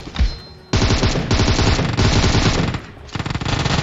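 Rapid automatic gunfire from an Uzi in the mobile shooter PUBG Mobile, loud and close, firing in long sustained bursts with a brief pause near the end.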